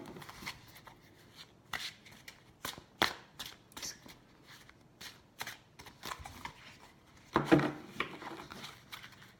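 Cards riffle and slap in irregular bursts of crisp papery flutter, close by, with a longer riffle near the end and no talking.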